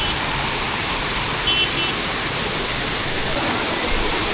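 At Malshej Ghat during heavy monsoon rain, a waterfall pours down strongly, filling the scene with a loud, steady, broadband roar of rushing water that never lets up.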